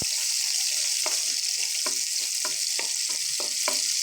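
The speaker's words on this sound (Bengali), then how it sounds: "পেঁয়াজটা হালকা ভাজবো।" Onion frying in oil in a pan after a five-spice tempering, a steady loud sizzle with a series of light stirring scrapes roughly every half second, no talk.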